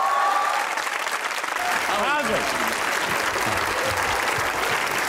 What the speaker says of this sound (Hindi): Put your hands together for Ayaz Khan.